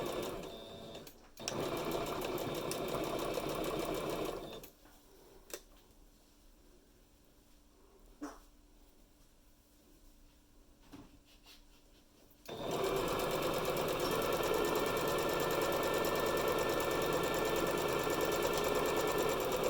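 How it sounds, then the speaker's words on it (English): An electric sewing machine stitching fabric for mask ties, a fast steady motor whir with rapid needle chatter in two long close bursts, separated by a quieter pause with faint clicks and handling. "And then you're just going to start sewing."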